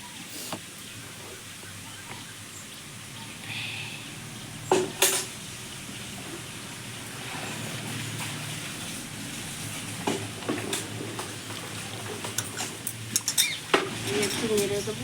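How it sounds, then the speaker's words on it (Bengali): A spoon clinks against a pot of boiling milk as cornflour is stirred in while making red yogurt, with sharp scattered taps over a low simmering hiss, bunched near the end. "এবার আমি এইখানে যে 2 চামচ কর্নফ্লাওয়ার নিয়েছি, কর্নফ্লাওয়ারটা গুলে দিয়ে দেবো।"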